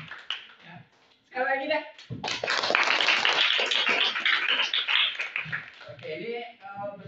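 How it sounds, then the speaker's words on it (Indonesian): Classroom group applause, a burst of clapping lasting several seconds that rises abruptly, with a teacher speaking just before and after. "Kasih aplaus dulu."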